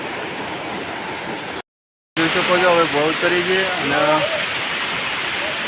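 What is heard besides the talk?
rushing water flowing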